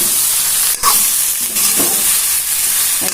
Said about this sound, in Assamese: এইখিনি অকণমান দেৰিলৈকে ভাজি থাকিম যেতিয়ালৈকে বেঙেনাখিনি অকণমান কোমলি নাযায়